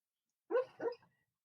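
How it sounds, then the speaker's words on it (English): A dog gives two quick barks, the first slightly louder, heard fairly faint and distant against otherwise near silence. "Oh, there's a dog."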